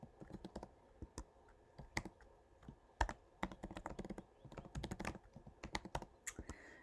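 Computer keyboard typing up close: a quiet, irregular run of light key clicks in quick bursts with short pauses, no talking.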